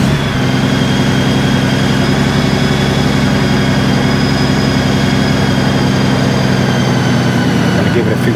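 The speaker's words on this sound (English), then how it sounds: "When I crank up the bike" Honda Goldwing motorcycle engine running at a steady idle, a loud, continuous low rumble with even mechanical tone held throughout.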